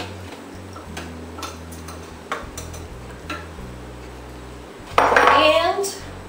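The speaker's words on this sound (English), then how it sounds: "Now we're going to go ahead and just drop in the sugar." Light clinks and ticks of utensils against a bowl come first, then sugar is poured in for a raspberry swirl recipe, giving a brief, louder rushing patter near the end.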